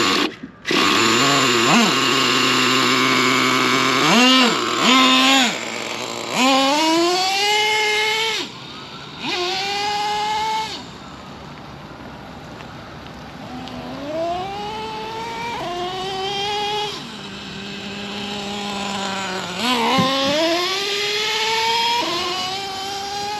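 Nitro engine of a Traxxas T-Maxx RC truck screams close by, revving up and down in repeated bursts with rising and falling pitch and short idle gaps, loud and alone.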